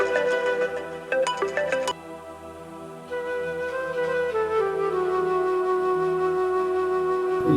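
A phone ringtone plays loudly and clearly, a melodic electronic tune repeating, with a few sharp clicks near the start.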